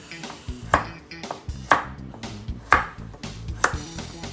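Knife chopping vegetables such as carrot on a board, close up, with firm regular chops about once a second and lighter taps in between.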